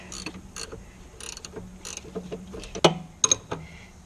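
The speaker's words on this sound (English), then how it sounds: "In this situation, I'm going to be using a ratchet wrench." A ratchet wrench snugging the bolts of a clamp-on inner tie rod tool, giving a few scattered close metallic clicks and clunks of the mechanism alone, with one sharper knock partway through.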